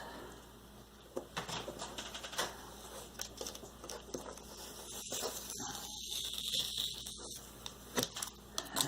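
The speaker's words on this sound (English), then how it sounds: "Still get peeling of tape." Masking tape peels off the edges of a watercolor painting in close, quiet bursts of sticky ripping and crackling, interspersed with soft taps and rustles, with a brief stretch of louder tearing near the end.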